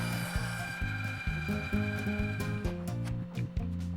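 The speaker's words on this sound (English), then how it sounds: "take them over to the bandsaw and cut them out" A bandsaw cuts out small wooden splines for a picture frame, its steady motor hum shifting in pitch as the blade bites into the wood in short repeated passes, close and with no voices.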